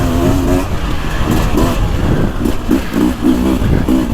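The two-stroke engine of a 2024 Beta 300 Race Edition dirt bike revs hard through the woods at speed, loud and close, its rapid buzzing pulses rising and falling under steady wind roar.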